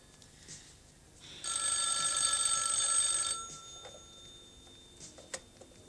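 An old-fashioned telephone bell rings once in a steady burst for about two seconds, fairly close, then quiet room noise with a faint tick, in an old Turkish film.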